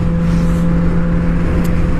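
A vehicle on a street during a wheelie, heard as a loud, close, steady engine drone with a strong low hum that holds throughout the short moment.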